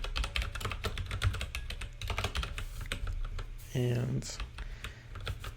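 Rapid, uneven keystrokes clatter on a computer keyboard close by, the bursts broken by pauses, with someone speaking briefly among them.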